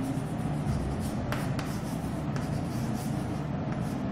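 A statement is written on a board in a physics lecture, heard as a steady, close scratching and rubbing of the writing tool that runs throughout, with no speech.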